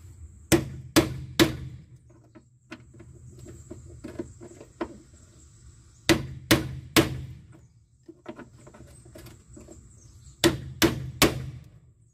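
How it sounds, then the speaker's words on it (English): A steel hammer strikes a socket onto a bolt while working on a turbocharged Volvo 245, three sharp metallic blows per burst in three separate bursts, close and loud, with quiet pauses between. "Let's try hitting it with a hammer"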